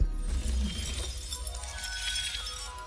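Glass shatters in Hogwarts Legacy as a Reparo spell is cast: a loud, sharp burst of breaking glass at the start, then a sustained bright tinkling spray of shards that stays fairly loud to the end.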